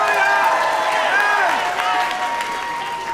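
A studio audience at a dating show claps and cheers, a fairly loud burst of applause that gradually thins out over a few seconds, with a voice speaking over it.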